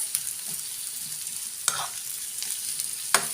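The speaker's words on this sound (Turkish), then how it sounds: "Soğanlarımızı öyle bir kavuracağız ki öyle derler ya öldüresiye kadar karamelize olana kadar kavuracağız." Onions sautéing in a pan until caramelized for an onion-and-egg omelette: a steady moderate sizzle with a few quick spatula scrapes and taps, close up and with no talking.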